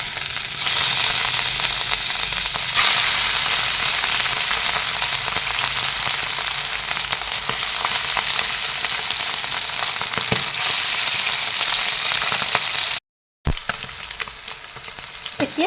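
Pieces of fish sizzle and crackle steadily in hot oil in a pan, a continuous close frying hiss for a fish curry with green peas and cauliflower, with no one speaking.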